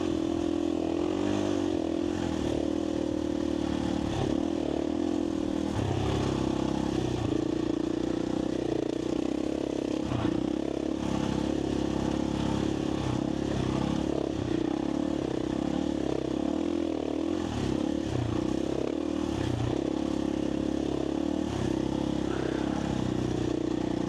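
A dirt bike drones along on a desert training ride for the Finke Desert Race, its engine revving up and down unevenly with scraping and clattering over rough ground, at a moderate level.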